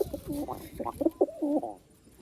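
A pigeon coos up close in a short series of throaty, wavering calls with brief gaps between them, ending in quiet.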